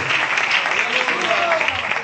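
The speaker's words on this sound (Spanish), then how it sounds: "ese aplauso para Dios en esta tarde" Church congregation applauds in praise, a dense continuous clapping from a close crowd with voices murmuring beneath it.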